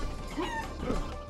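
Chickens cluck twice in quick succession in the video game Guacamelee, fairly faint over a steady game backdrop.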